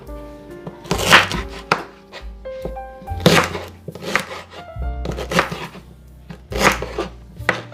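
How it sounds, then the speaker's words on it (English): A knife chops sorrel hibiscus flowers on a board in a series of close, loud, irregular thunks and cuts, with brief pauses between bursts. "I'm just gonna give them a slight chop like this"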